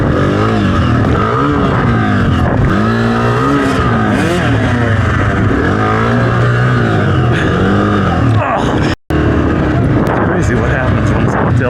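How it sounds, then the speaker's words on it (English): A 250F dirt bike rides over a two-foot log on a training course, its four-stroke engine loud and close as it revs and surges in rising and falling waves, with one abrupt dropout near the end. "And now I'm riding over a 2-foot log on a fucking 250F"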